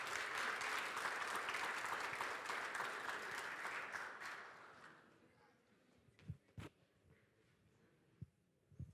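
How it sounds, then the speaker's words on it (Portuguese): Audience applause at a talk on personality and results, a dense wash of clapping for about four seconds that fades out, followed by a quiet room with a few soft knocks and handling noises. "Vamos receber uma salva de palmas."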